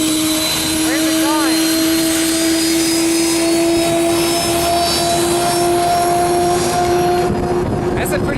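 A propeller airplane drones loudly overhead near the Wright B Flyer Museum in Miamisburg, Ohio, its strong steady engine tone holding for the whole stretch before easing slightly at the end.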